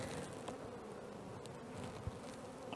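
Honey bees hum in an open hive during queen rearing by larval transfer, a soft, steady buzzing drone with faint brief knocks of frames being handled, no voices.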